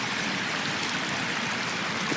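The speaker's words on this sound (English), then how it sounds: "it's still percolating and trickling down really heavily" Rainwater runs and trickles steadily through swales in a field after a heavy downpour, a continuous close, hissing flow without pauses or voices.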